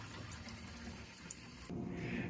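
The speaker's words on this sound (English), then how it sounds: "I'm going to fill these ice packs to the max fill line" Water runs into ice packs for an air cooler, a soft, steady trickle that grows abruptly louder and fuller partway through, with no talking.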